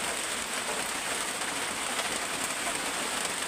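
Steady rain pours onto a shelter roof, a dense, even hiss with no breaks, close and fairly loud, with no voices.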